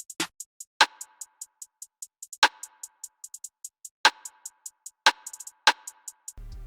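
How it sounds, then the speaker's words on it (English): FL Studio trap drum pattern of sampled hi-hats and claps: steady ticking hats with quick rolls, punctuated by sharper, louder claps every bar or so, ending in a brief burst of noise. "that pattern with the hi-hats and claps sounds like this"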